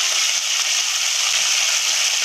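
Onions and minced meat frying in a pan, a steady bright sizzle and hiss held evenly throughout, close and moderately loud with no talking.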